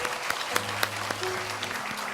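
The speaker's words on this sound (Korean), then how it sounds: "큰 박수 부탁드립니다" Brief burst of clapping from a church congregation during a Sunday service, a scattered crowd applauding with a few sharper individual claps standing out over a low steady tone.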